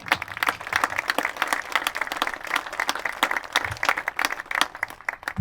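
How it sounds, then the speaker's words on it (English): Audience applause at a Hancock Central School commencement ceremony for the class of 2020: steady, dense clapping from a large crowd filling the hall, sustained throughout with a few louder individual claps standing out. "Please join me in offering a round of applause for that."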